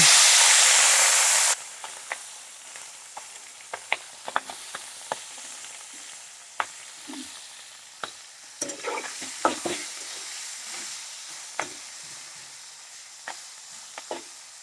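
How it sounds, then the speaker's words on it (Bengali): Tangra fish frying in oil, opening with a loud burst of sizzle that quickly settles into a steady low crackle, broken by sharp clicks and scrapes of a spatula stirring close by. "খুব একটা কড়া ভাজা দেবেন না, একটু হালকা করে ভেজে নেবেন।"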